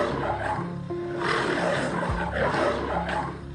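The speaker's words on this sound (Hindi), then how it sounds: "तभी उसे शेर की आवाज सुनाई दी।" A lion in a cartoon story lets out deep, rumbling roars, rising and falling twice over a dense, layered background of jungle ambience.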